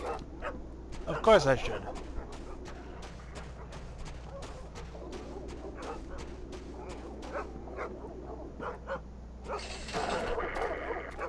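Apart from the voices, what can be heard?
dogs barking in video game Iron Storm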